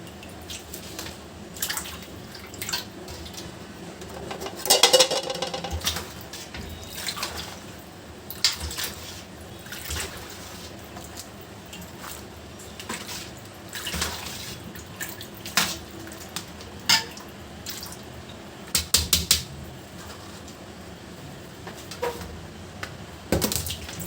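Raw shrimp being washed by hand in water for a Bangladeshi shrimp and Malabar spinach dish, with irregular splashing, dripping and sloshing plus occasional knocks against a pot or bowl, close and moderately loud, no talking.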